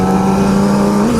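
Yamaha R6 600cc sport motorcycle engine revving at half throttle, a loud, close, sustained high-pitched drone that holds steady and then rises slightly near the end.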